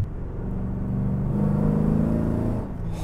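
A 2011 Camaro SS V8 cruises at about 900 RPM in sixth gear, giving a steady, deep low-frequency rumble with road noise inside the cabin, alone and without talk.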